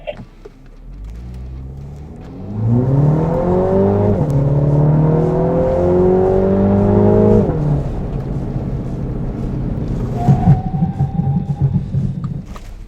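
A Mini Cooper JCW accelerates hard on a race track toward 90 km/h, its engine note climbing steadily through a gear change, then easing off as it passes, with a fainter whine at the end.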